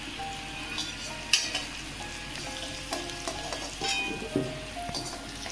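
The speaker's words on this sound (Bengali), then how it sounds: "আমি সমস্ত সবজি এইভাবে ভেজে নেব প্রথমে।" Vegetables such as potato, sweet potato and papaya fry in a pan, with a steady close sizzle broken by occasional spoon scrapes and stirring clinks, with no talk.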